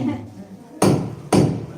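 Two loud, sharp hammer strikes land about half a second apart during a Thai housewarming ritual, following a quieter stretch of low murmuring background.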